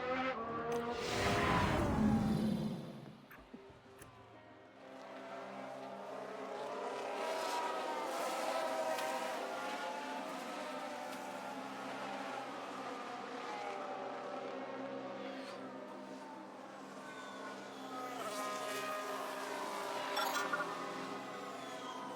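Formula One race cars roar through a replay in F1 Manager 22, featuring an AlphaTauri that spins and an Aston Martin; a loud, whining engine pass comes first, then a layered, sustained drone of several engines.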